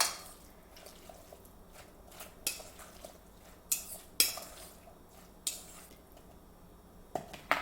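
Guacamole is stirred with salt in a bowl, a utensil scraping and clinking against the sides in irregular taps over a low background hiss.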